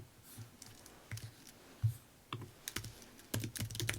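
A computer keyboard is typed on in quiet, close clicks and short bursts of keystrokes while editing web font code, with no talking.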